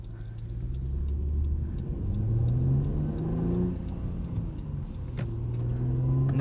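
A 2016 Honda Accord V6 coupe with a six-speed manual accelerates hard from inside the cabin, its engine note climbing steadily, dipping briefly at a gear change, then rising again.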